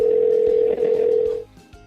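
A telephone gives a steady, loud dial tone for about a second and a half, then cuts off. Faint, brief dialing blips follow at the end.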